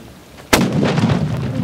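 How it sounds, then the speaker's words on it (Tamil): After a moment of quiet, an onion firecracker goes off in a single sharp, powerful blast, followed by a crackling, rumbling tail. "வெங்காய வெடி நம்ம இந்த இடத்துல வச்சு வெடிக்க போறோமே"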